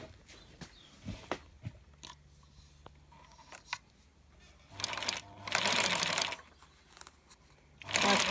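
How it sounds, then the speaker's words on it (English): Scattered clicks and small handling sounds give way to bursts of a sewing machine whirring as it stitches a zip onto fabric for a pencil case, running loudly in short stretches. "I'm sewing it in right up to the edge like that."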